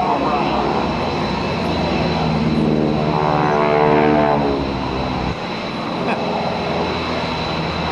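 GEICO Skytypers propeller aircraft fly a bomb run at an air show, a loud engine drone that rises and passes with a clear Doppler sweep, against steady background noise and crowd chatter.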